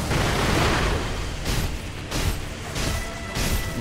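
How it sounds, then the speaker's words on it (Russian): A string of bursting blasts and pops from firecrackers in Sekiro: Shadows Die Twice, several sharp cracks recurring in quick succession over a loud, rumbling background. "На него, кстати, действуют петарды."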